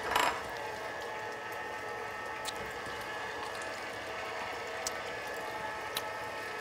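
An electric mixer churns key lime pie filling with a steady whirring mechanical drone, faint and even, with a brief clatter at the start and a few light ticks.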